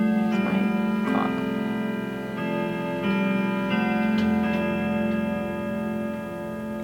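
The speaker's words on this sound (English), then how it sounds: "There's my clock." Steady ticking of a clock close by, with a clear repeating tick-tock over a sustained chiming, reverberant tonal background, no voices.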